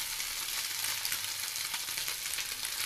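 Small fish fry crisply in hot oil in a pan, a soft steady crackling sizzle with faint pops, heard alone and fairly quiet.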